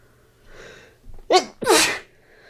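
A person sneezes close to the microphone: a soft breathy build-up, then a sharp double burst with a quick catch and a louder explosive release, with no talking.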